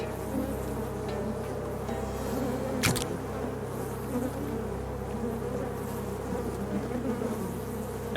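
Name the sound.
insect buzzing in the video game Shadows Over Loathing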